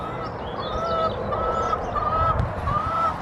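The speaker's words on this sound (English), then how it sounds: "we've been getting chickens" Chickens, including Suffolk birds, call and cluck nearby in a loose, continuous chorus over outdoor background noise.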